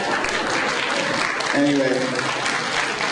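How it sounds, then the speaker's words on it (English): Kids applaud at an eighth-grade winter concert, a steady patter of clapping that runs throughout while someone speaks briefly over it. "Yeah, the applause is coming from the kids."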